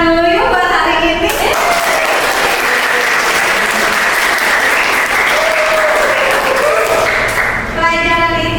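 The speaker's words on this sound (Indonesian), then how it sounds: "Kita tepuk tangan dulu yuk buat hari ini." A class of students bursts into sustained loud applause, dense clapping that lasts several seconds, with a voice heard briefly before it and again as it fades out.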